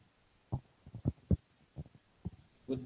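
An FDM 3D printer maps its print area, making a series of soft, low mechanical thumps and motor hums as the head probes the bed, about eight irregularly spaced pulses, close and fairly quiet with no talk.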